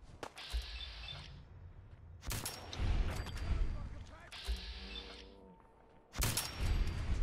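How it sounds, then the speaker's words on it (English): Bursts of gunfire from a Fallout wasteland mod game, several separate volleys spaced a second or two apart, loud and fairly near, with someone talking between them. "Something's firing around here."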